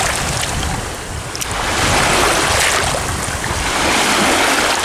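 A glass bottle is rinsed by hand in Thames river water on the foreshore, with steady washing and splashing mixed into heavy, continuous wind rumble close to the microphone.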